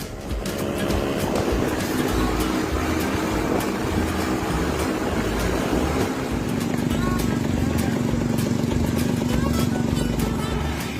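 A homemade vintage-style car powered by a two-wheeler engine runs steadily and loudly, its buzzing motor note holding at a constant level across the whole stretch with no pauses.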